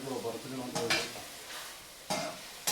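Chicken masala for biryani being stirred in a pan, with soft sizzling and a few distinct scrapes of the spoon against the metal, close and fairly quiet.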